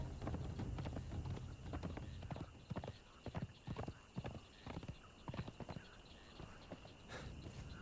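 A horse in the video game Conan Exiles trots with a string of clip-clopping hoofbeats, uneven and moderately close, with a brief whinny mixed in among the steps.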